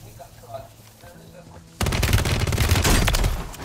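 Player's gun firing in Warzone on Urzikstan, a rapid, loud burst of automatic gunfire that starts abruptly after a quieter stretch of faint game sounds and keeps going for nearly two seconds.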